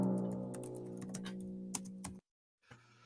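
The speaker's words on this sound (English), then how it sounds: "Here's some typing." Steady clicking of typing on a computer keyboard, quick irregular keystrokes over a constant hum, cutting off abruptly before a brief quieter resumption.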